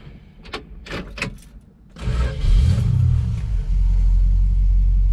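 A 1966 Dodge Coronet 500 fires up after a few sharp cranking bursts, catching into a loud, steady rumbling idle that swells slightly and holds close by.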